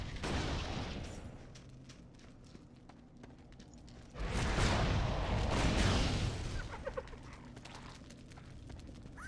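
Rumbling blast as an engineer's plunger charge blows up a rock wall in Torchlight 2, a loud broadband boom midway that rolls on for a couple of seconds over scattered clicks and quieter game ambience.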